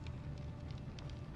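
Soft crackling of a fireplace in the Telltale Game of Thrones game, a steady low rumble with faint scattered pops throughout, heard alone without speech.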